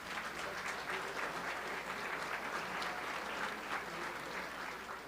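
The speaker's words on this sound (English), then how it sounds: "Big round of applause." Steady applause from a large audience at a business hall of fame celebration, dense clapping sustained throughout with no voices over it.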